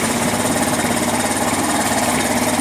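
A 1999 Kawasaki Bayou 220 ATV engine idles while warming up, a steady, loud, close mechanical putter with a faint rhythmic knock and no voices.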